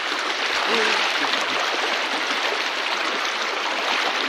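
Strong river current rushing, a dense, steady, loud roar of water close by, unbroken throughout, with a voice faintly heard beneath it.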